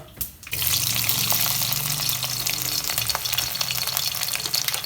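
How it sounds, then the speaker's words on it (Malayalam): Roughly twenty halved, chopped garlic cloves fry in oil on a gas stove turned down to a simmer for a mango pickle. A loud, steady sizzle and crackle starts after a brief quiet moment and continues with stirring scrapes. "നമുക്കിതൊന്ന് ഇളക്കി കൊടുക്കാം ആ വെളുത്തുള്ളിയൊക്കെ ഒന്ന് ബ്രൗൺ കളറാകുന്ന വരെ"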